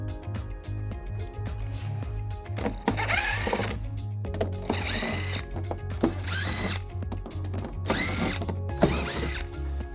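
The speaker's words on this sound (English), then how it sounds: "we're gonna remove all of these screws, all 5 of them on the edge" A power drill or driver backing out trim screws on a 2016 Toyota Sienna, with repeated whirring bursts of a few seconds each, separated by short pauses, loud and close with mechanical clatter between runs.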